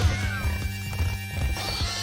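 Hog ride in the Crash Bandicoot video game, with rapid hoof clip-clops, snorting squeals and game effects layered over bright looping music, busy and continuous throughout.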